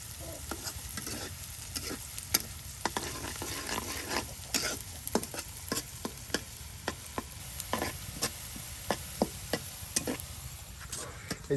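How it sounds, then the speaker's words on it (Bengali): Onion frying in oil in a village kitchen while chicken curry is prepared, a quiet steady sizzle punctuated by frequent sharp stirring scrapes and clinks, no voices. "পেঁয়াজটা প্রথমে তেলের সাথে ভাজা ভাজা করে নিচ্ছে"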